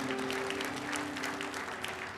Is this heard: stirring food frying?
no